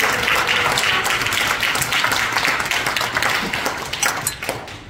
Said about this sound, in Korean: 다시 한번 이강자 원님께서 뜨거운 박수 부탁드리겠습니다